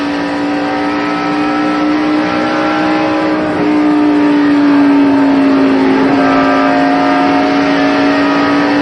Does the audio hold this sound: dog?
no